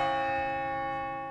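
Church bells at a large church with spires in Grand Rapids ring in a sustained, resonant tone, loud and close, slowly fading with no voices over them.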